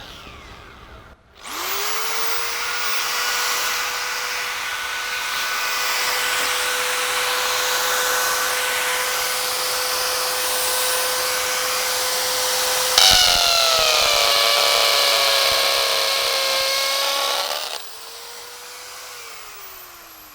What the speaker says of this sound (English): So, we will start drilling.